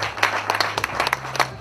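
Audience applause at the official launch of a fan club in Pointe-Noire, Congo, a short burst of brisk, uneven hand claps from a modest crowd, with a low voice murmuring underneath.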